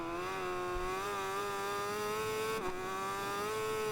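A racing motorcycle engine holds a steady high-pitched, harmonic drone during a race, rising slightly in pitch with a brief dip near the end, loud and continuous with no voices.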